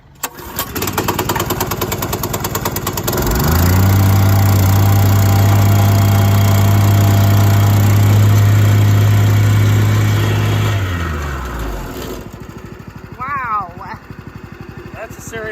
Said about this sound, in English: This is a vibrating contractor or compactor, and it's fairly heavy.